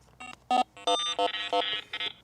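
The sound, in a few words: Rippton Bitekeeper Cube fishing bite alarm sounding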